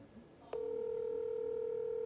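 A telephone dial tone comes on abruptly after a short click and then holds steady and loud as a call is being placed, with faint talk before it.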